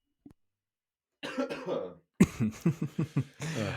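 A short series of several sharp coughs in quick succession, close and fairly loud, preceded by a brief throat noise.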